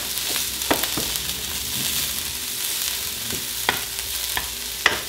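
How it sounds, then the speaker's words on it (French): Bell peppers cooking in a pan for a burrito bowl, giving a steady soft sizzle with occasional sharp scrapes and clicks of stirring, close and continuous, with no voices. "Je mets seulement les poivrons en premier parce que c'est ce qui prend le plus de temps à cuire."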